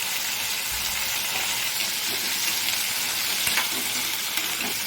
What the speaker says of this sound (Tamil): இப்போது தக்காளி நல்லா வதங்கட்டும்